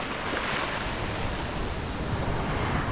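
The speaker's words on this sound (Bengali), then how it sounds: "এখন যেহেতু জোয়ার চলছে সেই কারণে ঢেউ যেরকম সামনে আছে সেই রকম ঢেউ খুবই উতলা।" Rough waves at high tide wash onto Dublagadi beach near Balasore, a continuous broad roar of surf heard up close with no voices.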